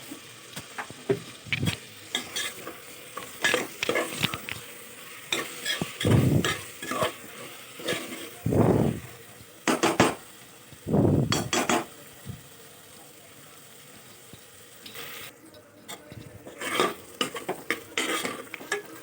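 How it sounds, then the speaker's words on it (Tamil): Tomatoes with salt being sautéed in a pan for Thalappakatti chicken biryani, with irregular bursts of spatula scraping and clanking against the pan over a faint sizzle, separated by brief quieter gaps. "லைட்டாக உப்பு சேர்த்து நல்லா வதக்கி விட்டுக்கோங்க"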